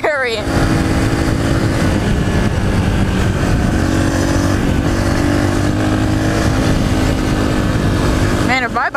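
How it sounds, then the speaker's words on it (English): Yamaha TTR 125 dirt bike riding a trail, loud continuous engine drone close up with wind buffeting, steady throughout and fading at the very end. "Man, if my bike's getting close to the top speed"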